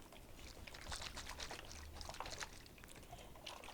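Water swirling and gurgling through two connected plastic bottles spun to form a tornado vortex, a faint continuous sloshing pour with soft bubbly splashes.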